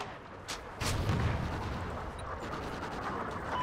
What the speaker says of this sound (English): Trinity rocket inbound.